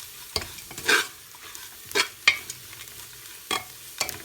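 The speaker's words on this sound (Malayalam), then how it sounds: "നമുക്ക് നന്നായിട്ട് ഇതിനെ ഒന്ന് വഴറ്റുക" Kerala-style mutton curry masala with spices, pepper and curry leaves being sautéed in a pan, a soft background sizzle broken by several distinct, crisp stirring scrapes spaced irregularly, no talking.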